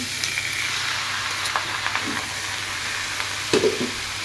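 Loud, steady sizzling as chopped bottle gourd fries in a hot pan, with occasional scraping and stirring noises close by.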